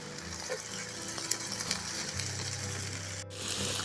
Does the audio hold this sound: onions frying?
yes